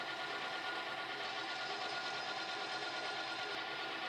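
A SIEG SC4 benchtop lathe running steadily on slow power feed, producing a continuous even mechanical whir and hum with no breaks, close and moderately loud.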